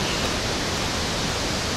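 The Roman-made Marmore Falls in Umbria roar as a steady, loud, broadband rush of falling water, filling the scene without a break and with no voices.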